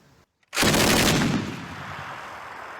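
Russian Kord heavy machine gun fires a loud, close burst starting after a brief silence, the dense rapid reports merging into a roar that rings out and decays over the following seconds.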